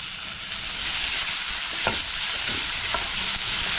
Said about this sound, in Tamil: இது ஒரு நிமிஷம் நல்லா வதங்கட்டும்.